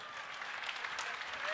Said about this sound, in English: A round of applause to the Minister of Internal Affairs